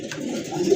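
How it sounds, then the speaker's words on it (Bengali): A pair of Kaldom pigeons gives a short, soft, close cooing murmur lasting under a second. "দেখেন একজোড়া কালদম কবুতর"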